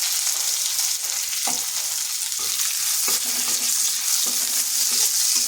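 Sliced onion fries in hot oil with whole cumin and a dried chilli, a loud continuous sizzle broken by repeated stirring scrapes at an uneven rhythm, with no voices.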